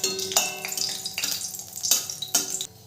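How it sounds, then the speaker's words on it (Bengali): Three dried red chillies frying in hot mustard oil while being stirred, a steady close sizzle with scraping stir strokes and a few sharper utensil clinks. "শুকনো লঙ্কাটাকে নেড়ে চেড়ে আমি লাল করে ভেজে নেব।"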